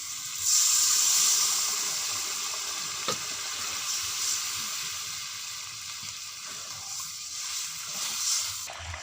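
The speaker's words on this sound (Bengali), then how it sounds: "তেল বেরিয়ে আসছে জল দিয়ে দিচ্ছি" Water is poured into hot oil with village-style chicken curry and fried potatoes in the pot, setting off a loud, steady hiss that swells at first, then settles into an even sizzle with a faint clink, with no voices.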